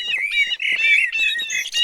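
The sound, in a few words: birds chirping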